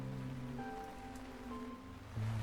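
Game rain from Dicentra patters as a steady soft wash, with quiet music tones drifting over it throughout.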